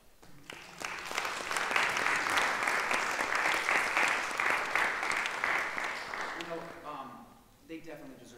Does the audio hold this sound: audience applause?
yes